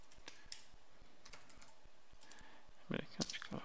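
Quiet clicking of keys as code is typed on a computer keyboard, in a rapid irregular rhythm with a brief louder burst of keystrokes near the end.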